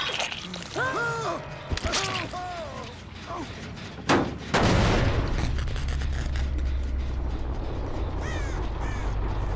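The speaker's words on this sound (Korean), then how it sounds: "까마귀였구나" Crows caw several times in quick bursts inside the video game Dead by Daylight, followed by a sharp boom and a steady mechanical rumble.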